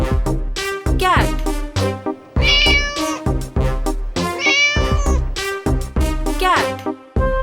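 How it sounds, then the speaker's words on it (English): A cat meows repeatedly and loudly up close, each call rising and falling with strong harmonics, in several bursts over a few seconds with brief gaps. "Cat."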